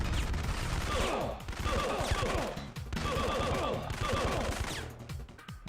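Gunfire and explosive bursts from the Syphon Filter PlayStation game, with a grenade going off amid dense, sustained, loud combat noise in repeating waves, no talk over it.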